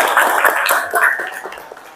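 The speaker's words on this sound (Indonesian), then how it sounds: "Tepuk tangan untuk kelompok" A classroom group claps together in applause during a teaching-practice lesson, a dense, steady patter of many hands that fades gradually toward the end.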